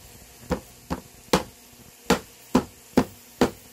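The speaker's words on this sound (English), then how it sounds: "I just use the old ball peen hammer" Seven sharp metallic-thudding ball peen hammer blows strike meat at an irregular, steady pace, each a crisp close impact with short gaps between, no voices.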